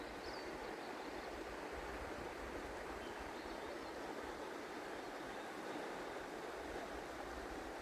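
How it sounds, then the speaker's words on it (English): Old Man River in the Alberta foothills, a broad steady rush of flowing water, continuous and even throughout with no voices. "This is called the Old Man River in the Foothead Hills of Alberta."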